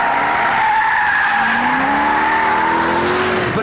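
A supercharged Ford Shelby GT500 engine accelerates hard, its note climbing steadily with a constant, surge-free roar, loud and close throughout.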